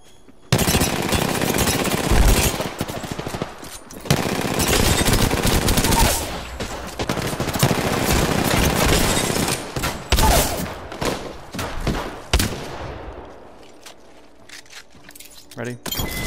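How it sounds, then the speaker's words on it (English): Rapid Re-45 pistol fire in the Apex Legends video game, with long dense bursts of gunshots that stop and restart several times, mixed with other game effects and a voice speaking over them. "I will beat you at range with an Re-45"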